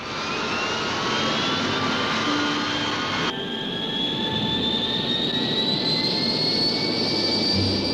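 A Gloster Whittle jet aircraft, the early jet first flown in May 1941, roars loudly and steadily, its high turbine whine shifting in pitch as it passes close by, with no voices.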